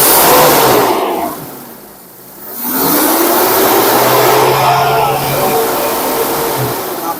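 A Daihatsu Feroza engine fitted with a Blackcore device is revved close up, loud and droning, dipping briefly before climbing back to a sustained high rev.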